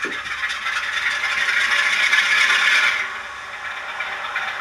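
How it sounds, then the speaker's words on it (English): Bachmann Class 47 model locomotive with DCC sound starting up: a loud, steady mechanical hiss and rumble that builds over a few seconds, then drops to a quieter idle, with no talk. "I went for the DCC sound as well, so let's fire her up"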